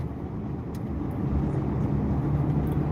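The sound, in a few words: car driving nearby in traffic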